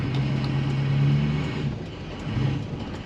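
A Ford 6.0 diesel pickup fitted with a massive elbow exhaust tip revs close by, its deep rumbling exhaust swelling and easing over a few seconds.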